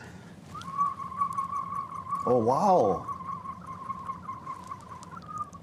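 A clear, sustained human whistle imitating a forest bird, held on one bright pitch, warbling into a quick trill in the middle, with a short spoken exclamation over background noise.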